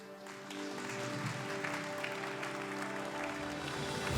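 Sustained applause from an audience at an architecture award ceremony, a dense steady clapping that carries on for several seconds over a faint musical tone.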